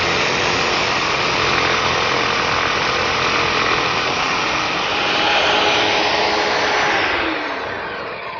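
Portable oscillating spindle sander truing the edge of a wood workpiece, a continuous high whining motor hum with sanding hiss, steady and close, easing slightly near the end.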